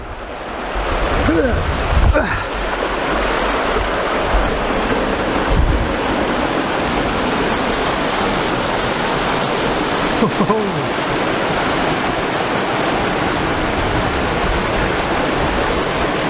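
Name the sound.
Gweebarra river rushing through small gorge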